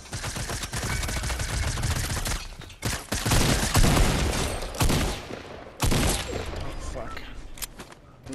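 Bursts of rapid gunfire in the Fortnite video game, loud and close, arriving in several separate volleys with short gaps between them.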